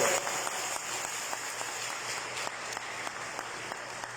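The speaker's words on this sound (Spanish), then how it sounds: "le damos un fuerte aplauso." A room full of people at a Sunday children's Mass applauds warmly, a dense, steady clapping that holds for several seconds before easing slightly.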